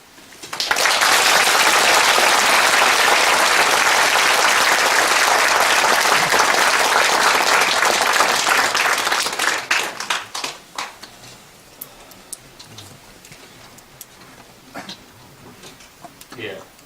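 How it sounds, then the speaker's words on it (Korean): Loud, dense applause from a lecture audience fills the hall for about nine seconds after an anti-corruption talk, then thins into scattered claps and fades away. "오늘 훌륭한 강연을 해주신 위원장님께 다시 한 번 더 뜨거운 박수를 보내주십니다"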